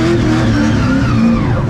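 A PS13 drift car engine revs loudly and continuously up close in the rain at Goodwood Festival of Speed, its pitch wavering up and down with a throaty, racing tone.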